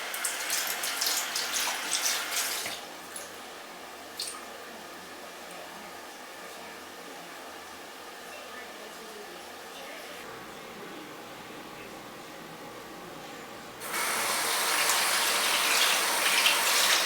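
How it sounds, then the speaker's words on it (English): Running tap water splashes steadily as a face is rinsed by hand at a sink, with a louder gush at the start and again near the end, quieter trickling in between, and no talking. "then I just give it a final rinse with my hands and water"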